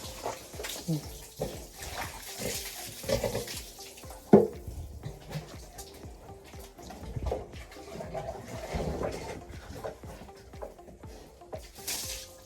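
Water runs steadily from a tap for several seconds, a soft continuous splashing with occasional clinks and faint voices in the background.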